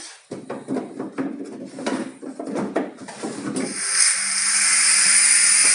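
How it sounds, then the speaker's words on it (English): An escape-room bookcase that works as a secret door into a hotel-themed room slides open, with several woody knocks and rubs, then a steady hissing mechanism noise as it moves. "This bookcase working like a door to the other entrance to the other room."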